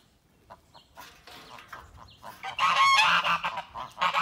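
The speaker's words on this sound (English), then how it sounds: "The geese are getting excited about this part." Several geese honk and cackle nearby, starting sparse and growing into a loud, overlapping chorus of calls.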